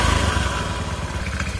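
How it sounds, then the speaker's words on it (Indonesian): An automatic scooter engine revved with the throttle, loud and close, its rough, clattering roar swelling at first and then easing back toward a ragged idle. "Dan pas aku gas, bunyinya lebih hancur."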